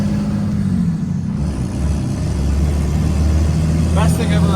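A $150k 2nd Gen Cummins diesel truck with a 6-speed running after sitting for months, a deep steady engine rumble close by throughout, with speech heard over it.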